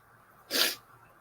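A single sharp sneeze bursts out close by, brief and loud against a quiet room.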